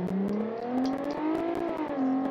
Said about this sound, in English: It's a nice engine sound